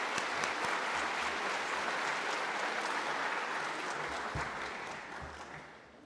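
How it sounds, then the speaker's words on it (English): Audience applause at a university business school welcome event, a broad steady clapping from a room full of people that holds loud for several seconds and then fades slightly toward the end. "Let's give him a round of applause."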